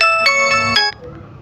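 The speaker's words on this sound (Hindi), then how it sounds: "फोन आ गया ससुरा।" A mobile phone plays a loud electronic ringtone with bright repeating tonal notes for about a second before it cuts off, leaving faint room noise.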